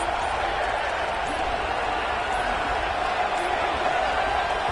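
Stadium crowd at a football game roaring steadily and densely as the team lines up for a two-point try, a continuous loud wash of voices with no break.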